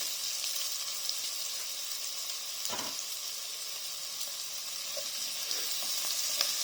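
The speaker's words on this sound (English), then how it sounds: "we're just going to start sweating them onions off nicely" Onions sweating in a pan for leek and potato soup give a steady, bright sizzle that runs unbroken throughout, with a soft clink or stir near the middle and a few faint ticks later.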